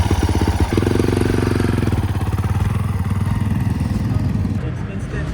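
A modified 250 motocross dirt bike with a high-compression piston and ported engine runs at a loud, steady pulsing rumble close by, its rapid firing rhythm holding throughout with slight fading near the end.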